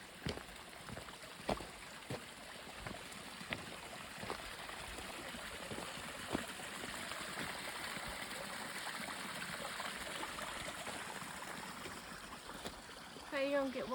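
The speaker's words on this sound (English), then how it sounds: "Nice little waterfall this morning" A small waterfall on the Appalachian Trail between Neel Gap and Unicoi Gap gives off a steady, faint rushing hiss, with a few light clicks and scuffs near the microphone.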